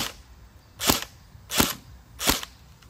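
Three sharp airsoft rifle shots fired at a Samsung screen, evenly spaced about two-thirds of a second apart, each a loud close crack with a quick decay and no voices.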